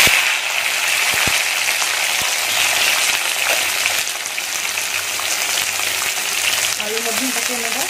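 Poi greens and tomato fry in hot oil in a kadai, giving a steady loud sizzle with a few sharp knocks near the start and a brief murmur of a voice toward the end.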